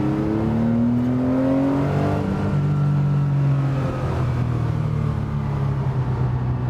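An early Porsche 911 engine revs steadily higher, its pitch climbing to the redline, loud and close with no voices.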